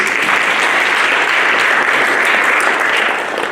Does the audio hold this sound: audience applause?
yes